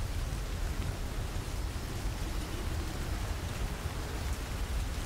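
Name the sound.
rainstorm with thunder and lightning, ambient sound track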